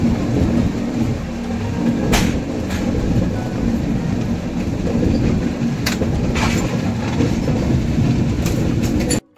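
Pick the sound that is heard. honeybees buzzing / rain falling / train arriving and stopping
train arriving and stopping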